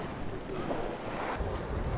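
Grand Geyser erupting in Yellowstone, a steady broad rush of water and spray with wind noise, continuous and fairly strong throughout with no voices.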